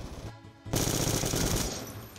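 Rapid automatic gunfire in a Black Ops 2 gun game match erupts after a quieter moment, a loud continuous burst of shots lasting over a second, with no speech over it.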